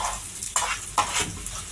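Fried chicken sausage being tipped from a frying pan into a cooking vessel, with a soft sizzle and two sharp clinks of pieces landing, close and fairly quiet.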